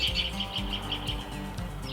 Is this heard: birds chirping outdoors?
yes